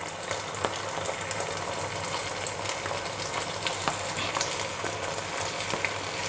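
Soya chunks sizzle in a pan of sauce, a steady crackling fry with occasional small pops and light stirring clicks, close and continuous.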